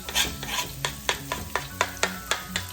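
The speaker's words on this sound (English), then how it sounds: "Put your onions and garlic there." Onions and garlic sauté in oil with a close sizzle, punctuated by rhythmic scraping strokes of stirring roughly every quarter second. There is no speech.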